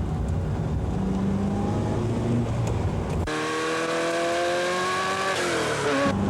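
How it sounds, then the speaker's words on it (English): A race car accelerates hard down a straight, its engine climbing through the gears with rising, sustained roar; a sharp change in pitch midway suggests an upshift, loud and close throughout with no talk. "And now we'll be accelerating down the straight."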